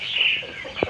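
An Aseel rooster gives a short, nasal call followed by a brief low cluck, close and fairly clear, with faint background noise.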